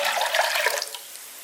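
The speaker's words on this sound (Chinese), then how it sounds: "然后我们再准备给椰汁一样的清水放进去" Fresh water is poured into a clay pot already holding coconut milk: a brief, close, splashing gush that tapers off within about a second.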